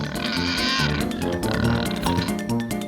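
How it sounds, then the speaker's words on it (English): A pig oinks and grunts in a quick series of loud, close, nasal calls that run through the whole moment. "a pig"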